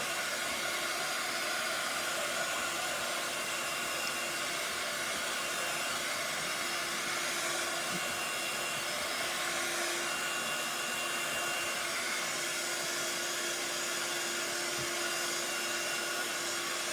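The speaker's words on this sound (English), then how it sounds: "when you're using a heat gun to dry cardstock, just make sure you go front and back" A heat gun blows steadily as it dries cardstock for a handmade card, a continuous close, even whooshing hum with a faint tonal whine that runs unbroken throughout with no voices.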